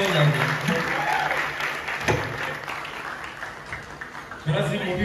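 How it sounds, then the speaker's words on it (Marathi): An award-show audience breaks into sustained, loud applause that fills the hall, dense clapping swelling at the start and again near the end, with voices mixed in. "तर त्यांच्यासाठी एकदा जोरदार टाळ्या होऊन जाऊ"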